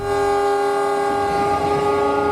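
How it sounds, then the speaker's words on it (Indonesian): A passenger train running on a railway, a loud steady rumble with a sustained horn-like tonal drone and low rolling noise throughout, close and continuous with no talk. "yaitu kereta api"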